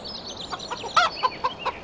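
Chickens clucking on a farm in Farming Simulator 2013, a run of short, separate clucks and squawks at close range, with one louder call in the middle and no talking.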